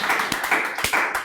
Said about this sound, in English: A round of applause again for Nathan.